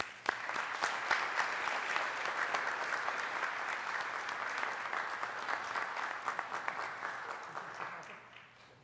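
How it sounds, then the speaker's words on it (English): Applause from an audience at a city council regular meeting, a steady wash of many hands clapping at moderate distance, tapering off over the final second. "Let's give them a round of applause."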